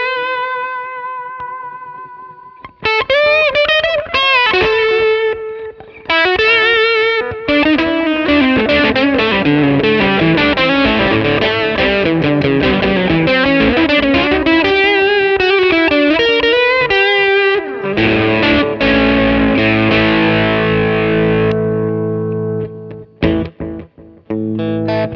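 Electric guitar played through a Minson M8 multi-effects pedal, a loud distorted lead with sustained bends and fast runs, washed in chorus and reverb, ending on ringing chords and choppy stops.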